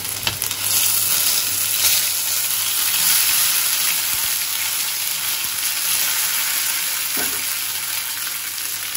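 Ginger and garlic paste sizzles and spits steadily in hot oil in a pan while egg korma is being cooked, a loud continuous frying hiss with a few stirring knocks and no talk.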